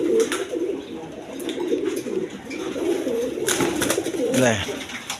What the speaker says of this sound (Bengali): এখানে এক পেয়ার ব্ল্যাকলেস শার্টিং কবুতর আছে